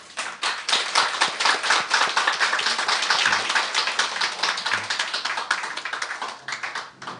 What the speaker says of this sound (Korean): 여기 두 분 계시죠? 잠깐 일어나 주시면 우리 뜨거운 박수로 환영하겠습니다.